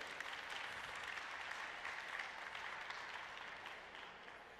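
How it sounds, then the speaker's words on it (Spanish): Audience applause at a genealogy conference, a continuous, even patter of many hands heard fairly far off and quiet, steady for several seconds before tapering slightly. "Un aplauso para Rogelio."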